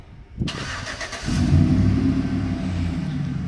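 A Chevrolet Tahoe's engine, started remotely by key fob: a brief starter crank, then the motor catches and settles into a loud, steady low idle rumble close by.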